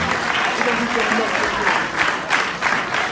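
Audience applause at a Nation of Islam gathering as Student Minister Dr. Ava Muhammad and guests are welcomed, steady dense clapping throughout with a faint voice underneath.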